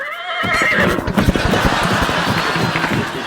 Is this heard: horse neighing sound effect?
yes